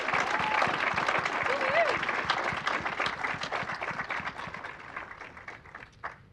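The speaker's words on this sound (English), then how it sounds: "let's give our awardees one more round of applause" Audience applause for awardees in a legislative chamber, sustained steady clapping from a crowd that gradually tapers off, with a faint voice briefly heard over it.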